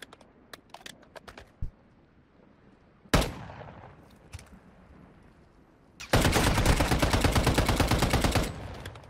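Gunfight in the mobile shooter game Warzone Mobile: scattered single shots, a heavy blast near the start, then a sustained rapid automatic burst of fire lasting a couple of seconds, loud and close.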